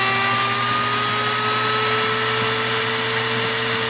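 A Dremel rotary tool mounted on a lathe runs as a grinder: a loud, steady high-pitched motor whine with a constant hum underneath, close and unbroken throughout, with no talking.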